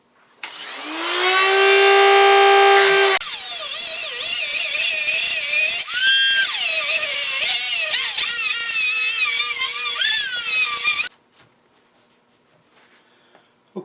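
A Dremel rotary tool with a fresh cutting wheel grinds through a metal striker plate, giving a loud, close, continuous high whine that wavers in pitch as the cut loads and eases for about ten seconds, then cuts off, with no talking.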